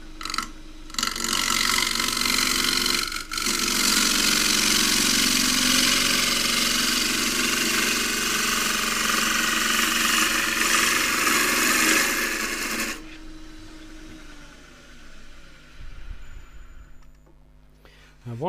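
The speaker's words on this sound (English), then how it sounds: "I'm going to do this with the 3/8 bowl gouge." Wood lathe turning a claret ash bowl with a 3/8 bowl gouge: a loud, continuous whirring cut for about thirteen seconds, then the cutting stops and a quieter mechanical hum fades out.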